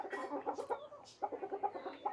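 Australorp and desi hens cluck in quick repeated bursts, fairly close and moderately loud, with short squawks breaking through the rhythmic calls.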